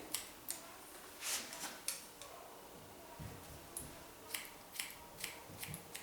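Scissors snipping a man's medium-length hair during a haircut, a few sharp, quiet clicks spaced irregularly, close up in a calm room with no talking.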